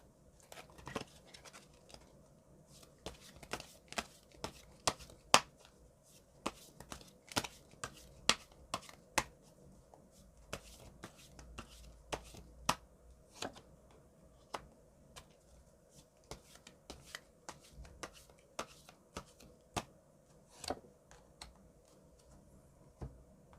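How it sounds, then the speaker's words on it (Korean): Tarot cards are shuffled and drawn by hand, giving a long run of quick, crisp flicks, slaps and soft snaps at an irregular rhythm over quiet shuffling. "각각의 이제 조언 카드를 한번 뽑아보도록"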